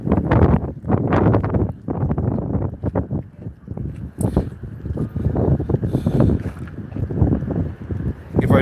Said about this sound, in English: Bro, stop with the wind.